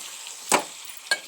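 Tomato paste is stirred into a mutton curry in the pan, giving two short scraping, sizzling bursts about half a second apart over a quiet background.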